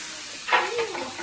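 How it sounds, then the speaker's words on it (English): Defrosted meat frying in a hot pan, a short burst of close hissing sizzle that swells and fades within about a second, with no voices. "Alright, so nice sizzle."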